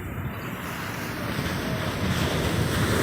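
Surf breaks at Baler beach at high tide on a gloomy day, a steady roar of waves mixed with gusting wind buffeting the microphone, swelling slightly louder toward the end with no voices.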